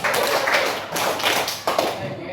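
Students in a classroom clap a patterned rhythm in unison, a handful of dense, crowded bursts of many hands close together, with voices mixed in around the claps.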